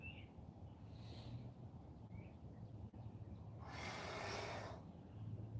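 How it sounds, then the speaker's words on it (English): Strong breathing during a yoga flow: steady airy background with one long, loud whooshing exhale through the nose and mouth, close to the microphone, no talking. "Breathing strong here."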